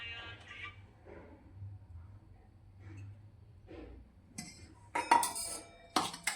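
Edible gum (gundar) being stirred with ghee in a pan: intermittent soft scrapes and metallic clinks from a spoon against the pan, quiet at first, then a few sharper, louder knocks near the end, with no talking.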